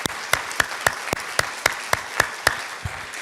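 A church congregation claps in a steady, even rhythm, with sharp individual claps standing out above a dense wash of applause.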